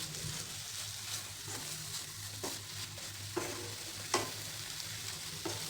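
Paneer bhurji sautéing in a home-kitchen pan, a steady low sizzle with several sharp scraping strokes of a spatula against the pan at irregular intervals, close and fairly quiet.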